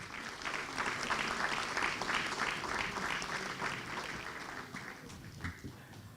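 Steady applause from a school board meeting audience, a room full of clapping hands sustained for several seconds before tapering slightly, with no talking over it.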